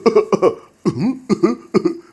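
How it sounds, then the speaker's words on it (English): A man coughs deliberately in a handful of short, voiced bursts with brief pauses between them, close and fairly loud. "just sit down there and begin to cough"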